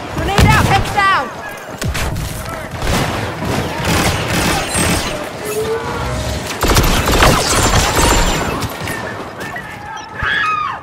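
Gunfire and booming grenade blasts erupt in a Star Wars video game battle, dense, loud and close, with overlapping shots and crashes throughout and voices speaking amid the combat.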